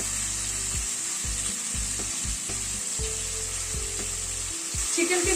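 Chicken sizzling as it is stir-fried with spices for a light curry, a loud continuous frying hiss broken by repeated scraping stirs, close up and with no talk over it.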